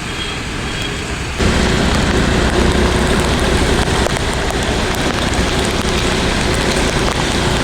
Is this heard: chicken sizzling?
no